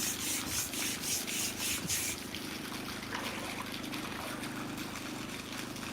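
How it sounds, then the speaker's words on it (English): Brush scrubbing a fish tank on a fish farm, a loud close rhythmic scraping at first, with strokes in quick succession, settling into a steadier wet rubbing hiss. "So to wash your tanks, you need a brush."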